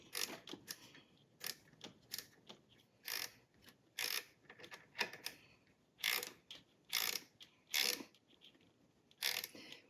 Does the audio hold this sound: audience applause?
no